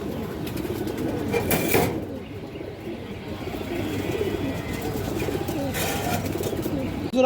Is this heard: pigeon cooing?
yes